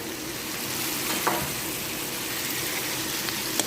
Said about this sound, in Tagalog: Tapos guys, ilagay ko yung kamatis.